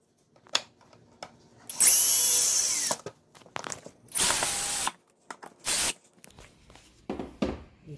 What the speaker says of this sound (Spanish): con nuestro taladro o con nuestro desarmador